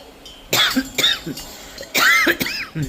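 A person coughs in two harsh clusters, close and loud, each a quick series of sharp hacks with a quiet pause between.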